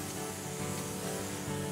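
Spray can misting water over corn microgreens, a short continuous soft hiss lasting under two seconds, close and faint with no talk.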